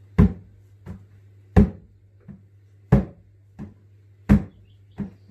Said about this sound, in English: So when you hit your bucket, you get quite a padded sound like this.